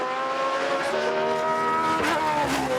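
A historic Formula One racing car engine roars past at high revs, its pitch sliding as it goes by, loud and continuous with no voices, on the Goodwood Festival of Speed hillclimb.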